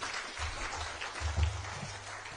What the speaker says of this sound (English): Let us clap our hands